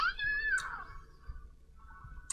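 A cat-like Pokémon's cry from Pokémon Let's Go Pikachu: a single rising-then-falling electronic meow, close and clear, followed by a quieter tonal tail and soft game music underneath.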